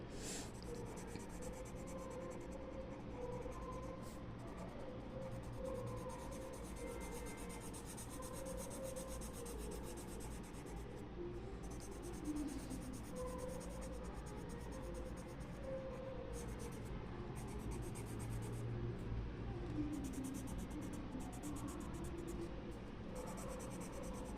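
Crayon or coloured pencil rubs steadily across paper while an animal doodle is coloured in loosely, a continuous close scratchy scribbling with no talk.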